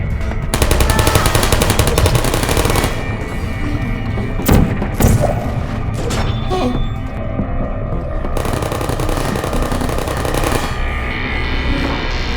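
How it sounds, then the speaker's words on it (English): Turret ambush in the Portal video game, dense rapid automatic gunfire rattling almost nonstop, with a couple of louder impacts and a brief lull before the firing resumes. "This massive turret ambush was originally a lot more massive, with turrets that dropped from the ceiling and popped out of surprise hatches"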